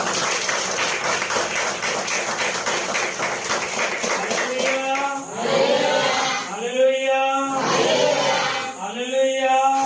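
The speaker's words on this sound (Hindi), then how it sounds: "ताली मारी प्रभु को धन्यवाद दिया" A church congregation at a Christian service claps hands together in a dense, rapid, steady burst for about five seconds, followed by a voice speaking or chanting in a reverberant room.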